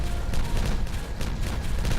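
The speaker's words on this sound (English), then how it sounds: "1 speed so we can see the pretty explosion" An explosion in the video game Timberborn erupts as a dense, rumbling blast with crackling bursts, loud and continuous for about two seconds.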